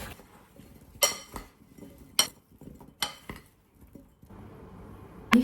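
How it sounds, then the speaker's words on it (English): Dry sugar, Ceylon cinnamon and cornstarch stirred together in a bowl, with a few sharp utensil clinks against the bowl spaced about a second apart over quieter scraping. "Now you just mix this up."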